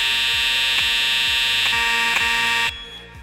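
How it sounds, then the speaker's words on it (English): A fire alarm in a Roblox Studio game rings loud and close, a shrill continuous tone pulsing in regular beats before abruptly cutting off near the end. "We'll go ahead and pull the alarm."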